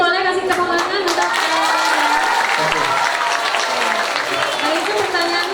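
An audience claps and applauds at an ecology session held at an Islamic boarding school. The dense, steady clapping runs throughout, with voices mixed in.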